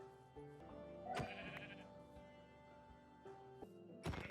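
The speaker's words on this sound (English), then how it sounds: "Yeah, I found some white sheep." Minecraft sheep bleat several times in short, separate cries, with quiet game ambience in between.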